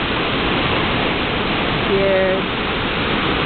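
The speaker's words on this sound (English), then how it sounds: "This is where the Kicking Horse River flows." The Kicking Horse River rushes beneath a natural rock bridge, giving a steady, full roar of fast water that stays constant throughout, with a brief faint tone partway through and a single spoken word.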